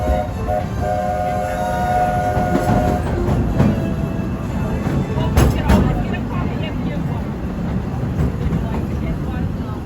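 The Walt Disney World Railroad train rolling along with a steady loud rumble and clatter of wheels, a sustained whistle-like tone early on and a few metallic clanks midway, heard from aboard, with a recorded narration voice over it.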